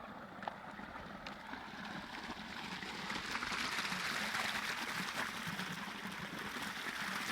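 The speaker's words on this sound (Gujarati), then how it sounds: "અહીંયા જોઈ શકો છો પાણી ચાલુ છે અહીંયા મિત્રો." Irrigation water flowing steadily into an onion field, a continuous broadband rush and gurgle that swells slightly midway and stays fairly loud throughout, with no voices.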